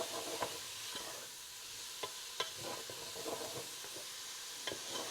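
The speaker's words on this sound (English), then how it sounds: "Now we're just going to cook our onions until they're transparent." Onions cook in a large pot with a faint, steady sizzle and occasional soft clicks of a stirring utensil, quiet and continuous.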